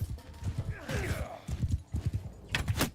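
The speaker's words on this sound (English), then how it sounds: "A couple more hits and the horse should be dead." Horse hooves clip-clopping at a gallop in the Mount & Blade II: Bannerlord video game, rapid close beats with a whinny partway through, over quiet background game sound.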